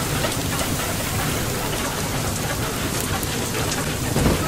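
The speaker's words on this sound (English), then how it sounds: "The rain is destroying me." Steady heavy rain from a storm in the video game Far Lone Sails, a dense, constant hiss of downpour with a low rumbling undertone, loud and unbroken throughout, with no talk.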